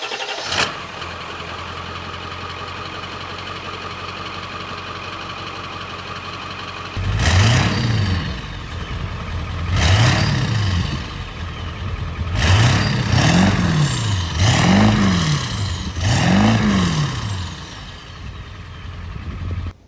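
A Ford F350 pickup with the 7.3 Powerstroke diesel starts up, its engine catching and settling into a loud, steady clattering idle, with several revving swells toward the end.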